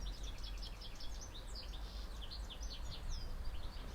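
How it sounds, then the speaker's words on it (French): Birds chirping outdoors, a run of small repeated high tweets at a moderate distance over a low steady background hum. "Peut-être entendez-vous les oiseaux"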